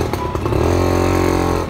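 A motorcycle idles and putters close by as it is ridden in to park, a steady, loud engine drone with slight rhythmic pulsing throughout, with no voices.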